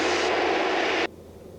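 Piper Cherokee 140 light airplane engine during a crosswind landing: a steady, loud droning roar that drops abruptly to a lower, quieter hum near the end.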